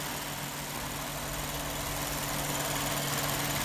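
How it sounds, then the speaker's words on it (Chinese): A Lexus LC500 engine idles steadily, a low even hum with faint vibration heard up close and without interruption, with no speech. "这是它的引擎。"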